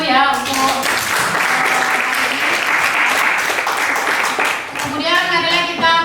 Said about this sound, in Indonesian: mari kita tepuk tangan dulu ya